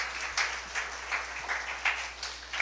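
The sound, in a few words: applause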